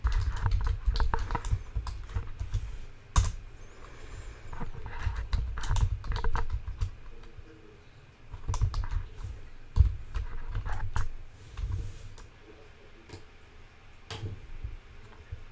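Someone types code on a computer keyboard while writing a bare-metal STM32 program, producing close, rapid clusters of key clicks in uneven bursts with brief pauses between runs, and no speech.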